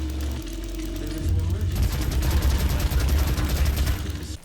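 In the 2016 DOOM first-person shooter, a weapon fires in a dense, rapid stream of heavy, loud shots with a rumbling low end, mixed with game effects.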